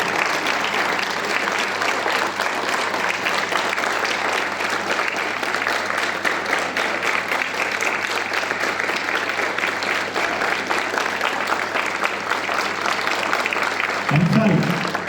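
Students at a school assembly clap together in unison, a steady, dense wash of applause filling the whole stretch, with a louder burst near the end.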